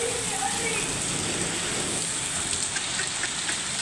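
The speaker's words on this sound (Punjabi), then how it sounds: "ਗੜੇ ਤਾਂ ਹਜੇ ਵੀ ਆਈ ਜਾਂਦੇ" Dense, steady patter of hailstones striking surfaces all around in a village in Sirsa district, a constant rattling hiss with scattered sharper ticks, no voices.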